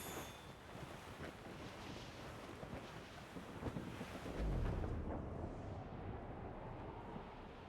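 Wind and sea noise while sailing a ship in Assassin's Creed Rogue, a steady rushing gust with washing waves and a low surging swell near the middle, fairly faint.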